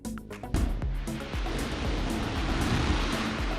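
Orion capsule dropped into a water basin in a splashdown landing test, a loud sudden impact followed by churning, rushing water and sustained heavy splashing.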